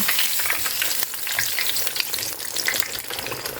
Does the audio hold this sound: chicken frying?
yes